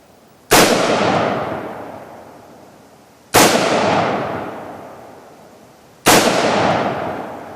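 Three loud, sharp gunshots ring out at roughly three-second intervals during an outdoor men's wild games target-shooting event, each with a long decaying echo, with no talk in between.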